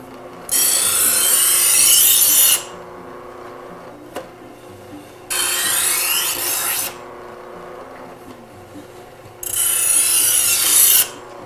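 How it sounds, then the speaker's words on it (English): A kitchen knife blade drawn through a wheel sharpener, three loud bright rasping pulls of about two seconds each, separated by pauses with a faint click, close up and with no talking. "you make sure your blade gets all the way down to the turning wheel and pull it through"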